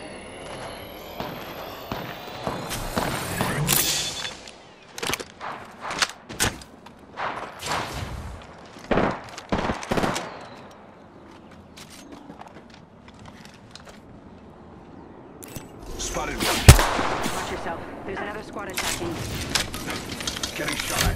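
Gunfire in a video game, with irregular bursts of sharp shots and clattering impacts that come and go, loud and close, with a heavy cluster of shots near the end.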